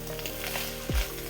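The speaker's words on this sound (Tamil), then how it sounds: "பிச்சு வச்ச பரோட்டாவை போடணும். போட்டு நல்லா கிளறணும்." Egg kothu parotta sizzling in a hot pan as shredded parotta is stirred in: a steady, close frying hiss with a brief scrape partway through.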